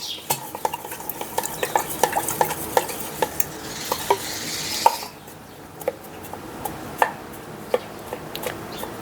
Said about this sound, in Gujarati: હલાવીને ગળાવી નાખશું પાણીને